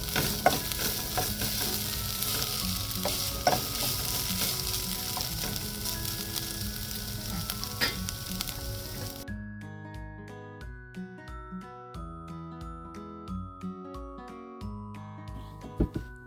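Onions frying in oil in a pan for Kerala-style chickpea fry, with a steady close sizzle and scraping stirs; about halfway through the sizzle cuts out and music takes over.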